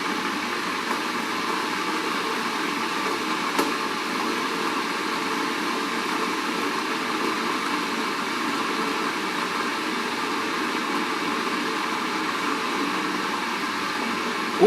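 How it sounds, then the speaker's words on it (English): A steady broadband hiss and rumble of water heating to a boil in a kettle continues throughout without any change or talking. "Also worth listening to the sound that your kettles make."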